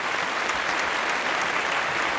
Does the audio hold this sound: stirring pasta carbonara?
no